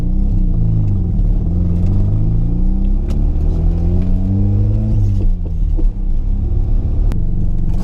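A Mazda FC RX7 rotary engine runs at low RPM with weak power down low, a loud steady rumbling drone holding close throughout with slight wavering in pitch and no voices.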